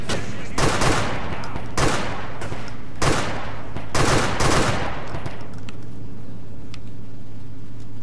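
Gunfire in Grand Theft Auto IV aimed at a car's tires, heard as separate loud sharp cracks spaced about a second apart over a steady background rumble, then fading into quieter ambience.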